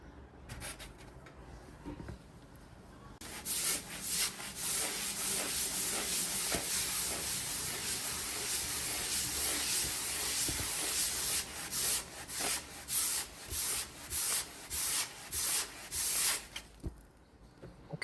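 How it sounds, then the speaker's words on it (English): A styrofoam thermocol sheet is rubbed briskly, producing a continuous scratchy swishing friction sound that ends in a series of separate short strokes, close and fairly loud with no talk. "there is this sheet of styrofoam, thermocol sheet, which I will charge by rubbing."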